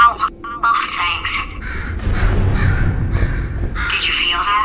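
Crow-like bird cawing in the video game Portal 2, a few harsh calls set against game sounds and spoken dialogue.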